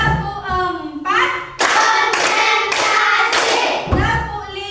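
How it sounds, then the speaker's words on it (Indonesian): A group of children in a classroom clap in unison through a numbered clapping routine, with several sharp rhythmic bursts of hand claps mixed with chanting voices. "Tepuk 4."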